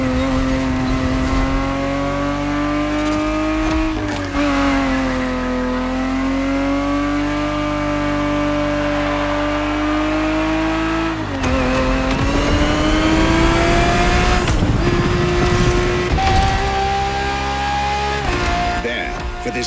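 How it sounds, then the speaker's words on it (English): A Ferrari 365 GTB4 racing car from the 1970s in The Crew Motorfest, its engine droning steadily at high revs with pitch swells and dips as it accelerates and shifts, loud and continuous throughout. "365 GTB4 is the perfect vehicle for you to experience Ferrari racing as it felt back in the 70s"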